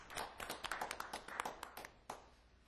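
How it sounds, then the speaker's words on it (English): Small audience at a government finance meeting clapping after a talk, a quiet, scattered burst of hand claps that thins out and fades after a couple of seconds. "We're all clapping because that was good news"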